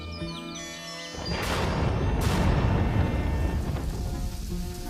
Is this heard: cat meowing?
no